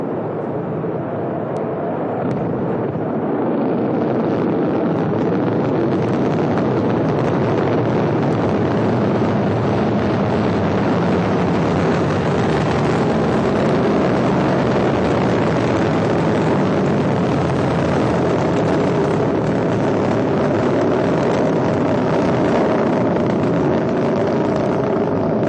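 An Ariane 5 rocket lifts off on its Vulcain main engine, a deep, powerful roar that swells within the first few seconds and then holds steady and loud, rumbling continuously to the end.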